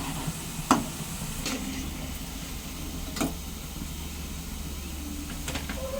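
A soya snack coated with garam masala and ginger-garlic paste fries in oil with a steady, low hiss, broken by a few soft clicks from a spoon or pan.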